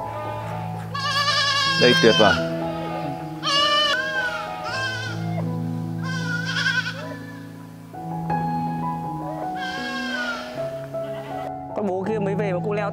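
Free-range goats on a goat farm in Hai Duong bleat loudly and repeatedly, with overlapping drawn-out calls from several animals close by. A person speaks briefly at the start.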